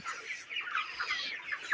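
Broiler chickens in a flock kept through winter cluck softly in a short, continuous murmur of overlapping calls, with no voices.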